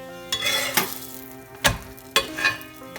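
Egg Mughlai paratha deep-frying in a pan of oil, a steady close sizzle broken by several sharp scraping and stirring strokes of a utensil against the pan, no voices.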